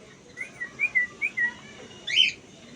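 A fully hand-tamed pet bird chirps in a short run of bright, clear whistled notes up close, followed after a pause by one sharper, louder call, with no talking.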